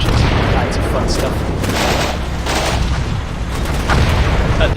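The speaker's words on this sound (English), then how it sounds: "There's a lot of airburst munitions going in. And the infantry's joining in as well with small arms fire and grenade launchers" Dense battlefield din in the Combat Mission wargame: airburst munitions, infantry small arms fire and grenade launchers going off together as continuous booms and crackling shots, loud and sustained with no pause.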